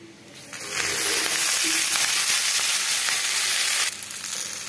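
Oil hits a hot pan holding roasted green chillies and bursts into a loud, close hissing sizzle that holds steady for several seconds and then drops to a quieter fizz.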